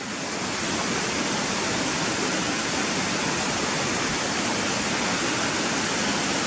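Water rushes over stones in a stream near Gunnerside village, a steady broadband roar of whitewater that is loud and close, constant throughout, with no voices.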